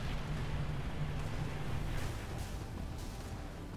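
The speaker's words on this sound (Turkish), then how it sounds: "Benim bir arabam daha patladı." A vehicle explodes in Halo 3, a deep rumbling blast over a steady low roar of combat noise, moderately distant and sustained rather than sharp.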